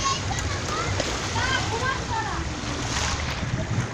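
Water splashes and sloshes steadily as people wade through a flooded street in Hatiara, New Town, Kolkata, a continuous wash of water noise with faint voices and a voice in the mix.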